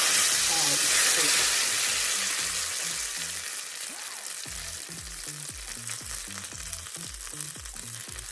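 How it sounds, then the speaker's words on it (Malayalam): Hot tempering poured into a pot of onion sambar bursts into a loud, close sizzle that hisses strongly at first, then slowly dies down to a softer, steady crackle. "ഇനി നമുക്കിത് സാമ്പാറിലേക്ക് ഒഴിച്ചു കൊടുക്കാം"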